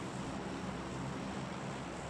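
A steady drone of airplane engines from the transport plane in PUBG, a constant broadband rumble heard alone and without change.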